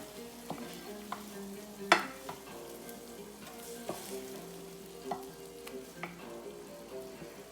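Raw shrimp are stirred together in a bowl or pan, soft wet sliding and occasional sharp clinks and taps from utensil contact, quiet and close with an irregular rhythm.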